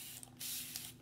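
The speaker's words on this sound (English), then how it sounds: "I'm going to go ahead and spray this with some water" Water misted from a spray bottle onto a chalkboard sign surface: two close, breathy hissing bursts, each lasting a fraction of a second, with a quieter gap between them.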